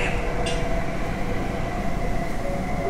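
A Delhi metro train on the purple line rumbles along from inside the carriage, with steady loud rolling noise and a brief high squeal near the start.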